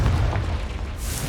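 A Confringo blasting spell explodes in the video game Hogwarts Legacy, a short heavy boom with a rumbling low end that fades into a hissy tail.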